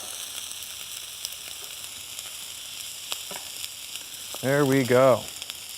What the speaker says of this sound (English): just turn your burner to medium and get to sauteing